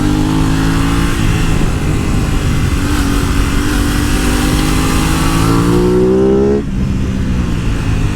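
A loud Aprilia RS660 sport motorcycle engine revving up close, pitch climbing steadily as it accelerates, then a brief dip near the end.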